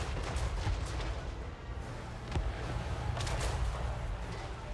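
Lead Belcher cannon fire in a Total War: Warhammer 3 battle against the Disciples of Hashut, with dense overlapping gunfire and booms under a constant roar of combat, a few sharper blasts standing out, and no talking.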